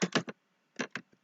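A computer keyboard tapped in two quick bursts, three crisp clicks and then two more after a short pause, close-up and dry with no talking, as keys are pressed for a save-and-exit shortcut.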